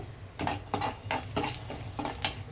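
Chopped nuts being stirred and fried in a pan for semiya kesari, with close, rhythmic scraping clinks of a metal spoon against the pan every half second over a soft background sizzle.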